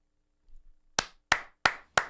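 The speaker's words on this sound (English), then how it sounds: "Let's clap. Everyone clap. I want everyone clapping." Four sharp, close hand claps land at an even, slightly slow rhythm after a moment of near silence and a few soft rustles.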